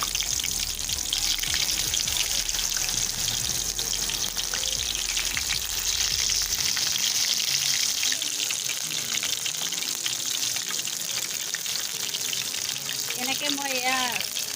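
Pakoras frying in hot oil in a kadai make a steady, close crackling sizzle that runs without a break from start to finish, with light clinks near the end.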